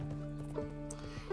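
Horse in Red Dead Redemption 2, with soft clip-clop hoof steps and a faint whinny over a steady low game hum, a voice briefly speaking underneath.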